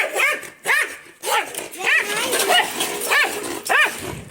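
Dog on a poultry farm barks repeatedly in short sharp bursts, fairly close, with a few yips, while people talk over and between the barks.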